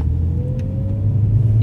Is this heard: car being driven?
yes